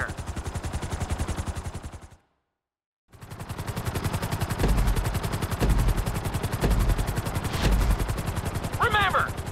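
Helicopter in GTA 5 flight school, a loud rapid rotor chop pulsing throughout, briefly cut to silence, with a voice talking over it.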